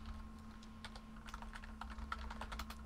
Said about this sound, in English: I am typing to John.